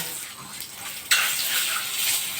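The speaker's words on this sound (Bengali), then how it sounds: "কড়াইটা এবার দিয়ে দিলাম হলুদ লবণ মাখিয়ে সেটা ডিমগুলো ভাজা করে নেব" Eggs coated in turmeric and salt go into a hot wok for an egg curry; a quiet background gives way to a sudden, bright, sustained sizzle that stays loud and close to the end.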